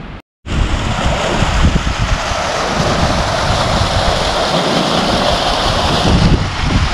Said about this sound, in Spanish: Primera cascadini del año.